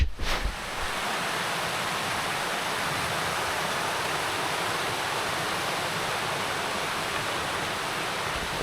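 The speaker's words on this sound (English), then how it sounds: "The river is a bit fast flowing because of all the downpour yesterday." A fast-flowing Scottish Highlands river, swollen by heavy rain the day before, gives a steady, loud broadband rush of water that continues unbroken from start to finish, with no voices.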